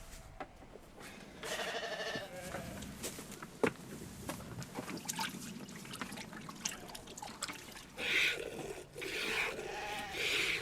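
Ewes bleat on an agroecology farm, several drawn-out calls at close to moderate distance, with faint trickling water and rustling between them.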